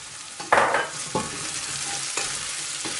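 Carrots and spices being stirred in a frying pot, a loud scraping swish at the start, then steady sizzling with several further stirring scrapes and clinks, close up and with no talk.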